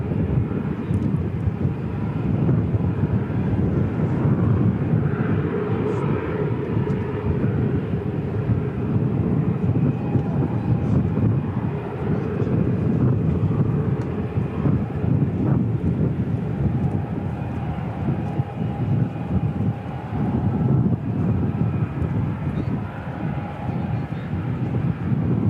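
A C-17 military transport aircraft arrives at Christchurch Airport with a long, steady, low engine rumble under wind noise on the microphone, without talk.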